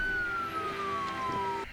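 An ambulance siren in the film Magnolia, a steady sustained wail slowly falling in pitch as the vehicle passes, loud and close.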